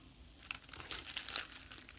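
Plastic craft packaging crinkles and crunches close by in a few quick, soft handling bursts, fairly faint and with no talk over it.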